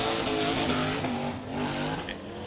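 Roaring engine of a rear-engine hydroplane race boat at a race start, a loud, sustained droning roar with steady harmonic tones and slight pitch shifts, heard alone without talk.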